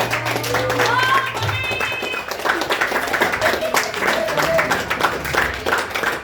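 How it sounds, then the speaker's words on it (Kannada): An audience at a birthday gathering claps, a steady dense patter of many hands filling the clip, with voices and crowd noise mixed underneath. "ಇದಕ್ಕೋಸ್ಕರ ಎಲ್ಲರೂ ದೊಡ್ಡ ಚಪ್ಪಾಳೆ ಎತ್ತಿಸ್ಕೋಬೇಕು"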